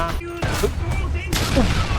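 Gunfire in a video game rings out in a short burst of sharp shots and booms, loud and close, over continuous game noise and background sound with someone talking.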